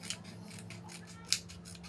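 Scissors snipping into a used plastic water bottle while making a decorative flower, a few quiet, close, crisp cuts with one sharper snap, and no voices.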